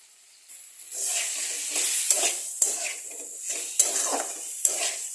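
Chicken biryani masala stirred and fried in a pan, with a steady sizzling hiss broken by repeated scraping strokes of a utensil and a few sharp metallic clinks against the pan, close and fairly quiet.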